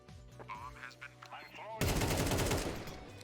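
Counter-Strike 2 gameplay with a burst of loud, rapid gunfire that erupts midway and stays dense to the end, following a stretch of in-game effects and beeps.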